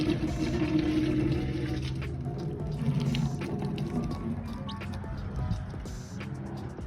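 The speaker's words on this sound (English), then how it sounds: "I'll give the tank one more rinse too" Running water splashes and pours as a glass aquarium tank is rinsed out, a steady close wash of flowing liquid that continues throughout and eases off slightly toward the end.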